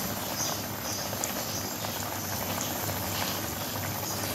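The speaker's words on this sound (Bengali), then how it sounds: "এবার কিছু সময় মাছের ঝোলটা এইভাবে ফুটবে।" Thin fish curry broth simmering in a pot, a steady close bubbling and faint crackle that runs evenly throughout without pauses.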